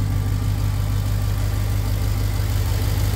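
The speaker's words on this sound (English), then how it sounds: "As loud as the exhaust is, the engine just purrs" A Ram 1500 TRX idles with a steady, deep, even rumble, heard close and loud with no talk over it.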